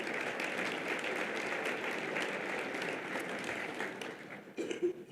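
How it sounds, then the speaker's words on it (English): A large audience at a charity breakfast event, the 2018 Face of Hope Breakfast, breaks into sustained applause, a dense, even wash of many hands clapping that carries steadily before tapering slightly at the end. "Give yourselves a round of applause."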